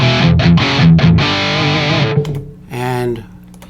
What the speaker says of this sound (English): This is just rock reverb.